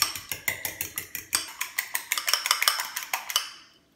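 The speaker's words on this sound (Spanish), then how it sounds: "Y lo vamos a batir a que queden bien mezclados los dos." Two eggs beaten with a utensil against a bowl, a fast regular series of clinking taps that speeds up slightly and then fades out near the end.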